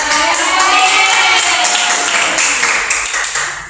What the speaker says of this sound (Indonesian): mari kita beri aplaus kepada